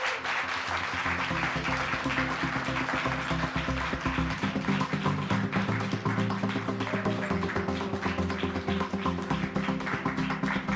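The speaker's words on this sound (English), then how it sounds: "Your applause." Sustained applause from an awards ceremony audience, steady and dense for the full length, with tonal music playing underneath throughout.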